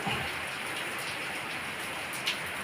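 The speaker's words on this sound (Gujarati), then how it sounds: "હવે વરસાદ તો આવ્યો" Light drizzle falls steadily on open village ground during the monsoon, a soft, even patter that fills the whole stretch with no voices.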